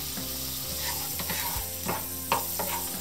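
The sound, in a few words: butter or ghee sizzling on a hot tawa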